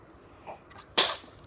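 A baby gives a single sharp, close sneeze, preceded by a faint soft vocal sound.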